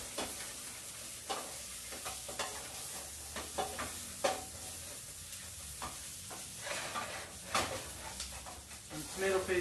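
Spices being stirred in a pot for dhal, a spoon scraping the bottom with irregular scrapes and clacks over a faint sizzle, while someone talks throughout.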